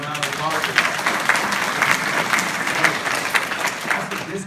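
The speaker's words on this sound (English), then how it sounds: "Give a round of applause." An audience claps in sustained, dense applause that holds steady for several seconds with a few voices mixed into the crowd noise.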